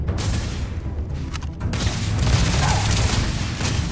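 Sustained gunfire from a firefight in the space game Starfield, a dense, continuous barrage of shots and booms filling the whole stretch at steady loudness with no talk over it.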